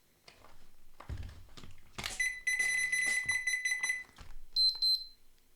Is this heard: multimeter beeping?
yes